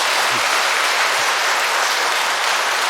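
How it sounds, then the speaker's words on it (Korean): Steady, loud applause from a church congregation for the priest after his sermon at a Sunday thanksgiving Eucharist, a dense crowd clapping that fills the whole moment with no voices over it. "감사의 박수 한번 올려드리도록 하겠습니다"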